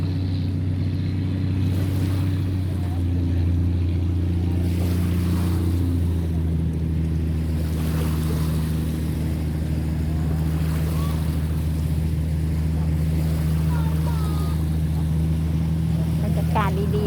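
A loud boat engine drones steadily as it tows three heavily loaded barges on a river, a constant deep throbbing rumble with water wash and faint voices now and then.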